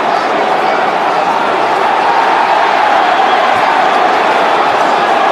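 Chelsea football crowd at a Premier League match against Aston Villa baying and roaring for a red card, a dense, sustained wall of loud stadium noise throughout with no break.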